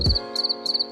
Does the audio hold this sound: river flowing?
no